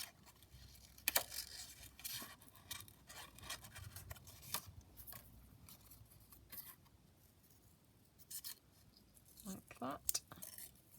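Scissors snip around a small paper rosebud in a quiet craft setting, with soft crisp cuts and light paper rustling scattered across the clip, a sharper cluster of snips near the end.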